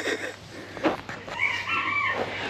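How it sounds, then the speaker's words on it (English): Chickens at a wildlife park call near the listener, with a few short squawks followed by a longer drawn-out cry over steady outdoor background noise. "There's chickens down here."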